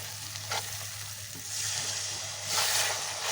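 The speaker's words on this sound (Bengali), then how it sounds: "এবারে একটু জল দেব।" Water added to prawn curry frying in a pan: a loud, continuous close sizzle that surges in hissing bursts as the liquid hits the hot pan, with no talking.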